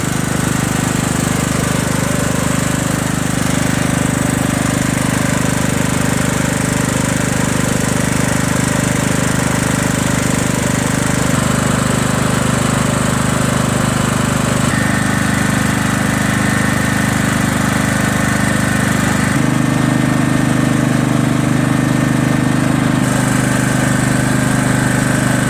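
A Kohler Command CV460S engine on a Craftsman LT1000 lawn tractor, with its muffler newly fitted, runs loudly and steadily up close for the whole stretch, with a constant drone and slight shifts in pitch and no voices.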